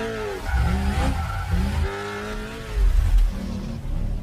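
A high, shrieking V8 engine revs up and down repeatedly during a gymkhana stunt-driving run in Los Angeles, with tires squealing in bursts, loud and close.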